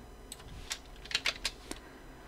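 Quiet, close keystrokes on a computer keyboard during Photoshop work, a handful of short clicks spread irregularly over about two seconds with no talking.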